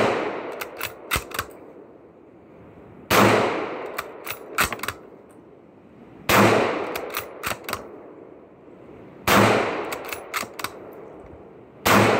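Mossberg MVP 5.56 bolt-action rifle firing with a standard magazine: four loud, close single shots evenly spaced about three seconds apart, each followed by a decaying echo and brief clicks of the bolt being cycled.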